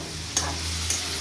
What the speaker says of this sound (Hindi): अच्छे से प्रॉन को फ्राई कर लेंगे। बीच बीच में हम प्रॉन को पलटते रहेंगे